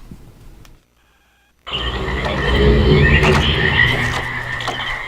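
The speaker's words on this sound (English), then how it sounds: "I'm liking the frog noises already" After a brief silence, a dense chorus of croaking frogs in the video game realMyst swells in, loud and continuous, layered with rhythmic ambient chirps and calls.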